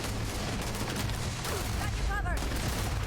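Dense gunfire of a battle in Starfield, continuous rattling shots and thuds mixed with whistling tones, with a voice faintly present under the fighting.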